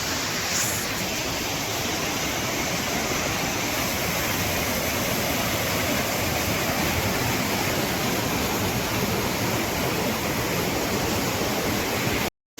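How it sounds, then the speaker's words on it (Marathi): Tahuli waterfall in Ambernath, a loud unbroken roar of heavily falling water heard up close, steady throughout with no voices. "मस्त एकदम धबधबा बघण्यासारखा आहे हा धबधबा."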